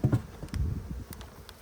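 Honey bees humming and buzzing around an opened hive while a starter colony is set up for queen rearing, soft close buzzing with a few louder passes, no talking.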